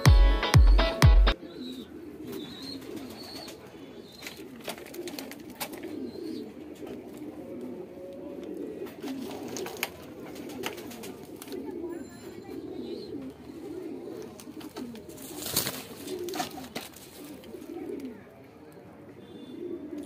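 White Dragon bloodline Madrasi pigeons cooing: soft, repeated low coos throughout, close by, with someone talking over them and occasional handling noises and bumps.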